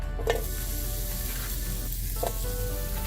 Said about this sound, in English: So we're going to fry this a little bit before adding the kale.